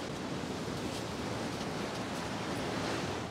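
Continuous broad roar of sea waves along the shore below a clifftop house, a dense, steady wash with no distinct breaks and no talking.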